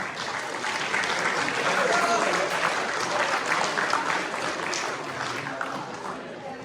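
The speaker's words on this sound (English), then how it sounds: "Give them a round of applause." An audience at a high school senior awards ceremony breaks into sustained, even applause, a dense wash of many hands clapping at once that holds steady throughout, with faint voices mixed in.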